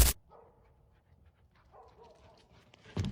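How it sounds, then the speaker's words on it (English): Dogs out on a walk at night in the wilderness, giving faint whimpering and yipping sounds between brief louder noises at the start and end, otherwise quiet. "A man was out walking his dogs when they suddenly began barking at what seemed like nothing."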